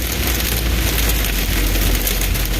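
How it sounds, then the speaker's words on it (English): Hail pounds on a car during a severe storm, a loud dense continuous clatter and hiss of ice striking the body, steady throughout with no talking. "that loud noise you hear is hail"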